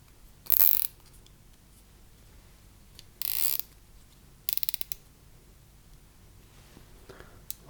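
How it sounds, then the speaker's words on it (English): A plastic cable tie zipped onto a cable strain relief during assembly of a 3D-printed switch: three or four short, crisp ratcheting bursts separated by quiet pauses, close and clear. "I'm creating a full loop and fix it to the strain relief with a cable tie"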